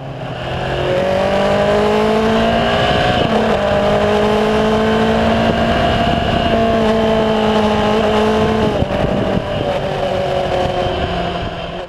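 A Voge 525 DSX motorcycle accelerates hard through its gears, the engine note climbing steadily, then dropping briefly at each of two upshifts before rising again, loud and close.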